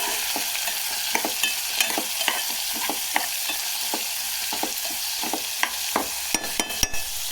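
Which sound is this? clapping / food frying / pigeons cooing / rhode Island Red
food frying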